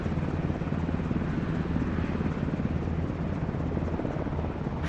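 A helicopter flying in Microsoft Flight Simulator 2024 produces a dense, continuous rotor and engine roar that stays loud and even throughout.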